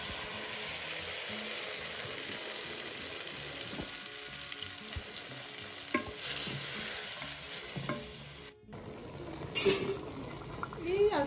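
Onion and tomato sauce with salsa frying in a pan, a steady close sizzle with occasional stirring scrapes and light clinks throughout.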